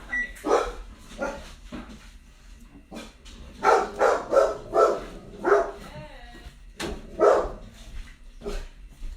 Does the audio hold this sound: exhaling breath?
no